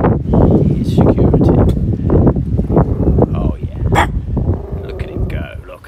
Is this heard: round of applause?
no